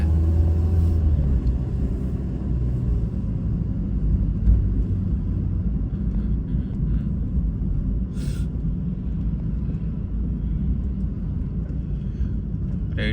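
A car approaches along a street at a pedestrian crossing in Australia, its engine and tyre rumble steady and moderately close under continuous low traffic noise, with no talking.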